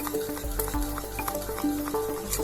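Cake batter mixed in a bowl with quick, continuous swishing and soft scraping strokes, close and steady, with no one speaking.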